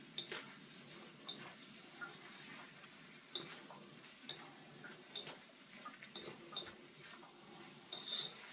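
Chicken, shrimp and peppers with garlic and ginger sizzle softly in a pan, broken by a steady run of light utensil taps and scrapes as the stir-fry is tossed, close and fairly quiet.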